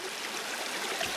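Creek water rushing steadily after a flood of about 15 inches of rain in a week, near where a ram pump once stood; a dense, continuous broadband wash, close and even, with no voices.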